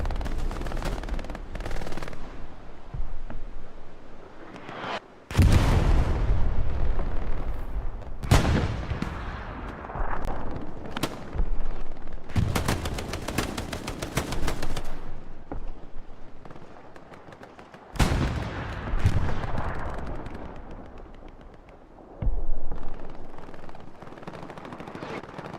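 Artillery shelling and gunfire in the video game Hell Let Loose during a competitive Omaha Beach match: loud, close bursts of rapid fire and heavy booming blasts come in dense waves, with brief lulls between them.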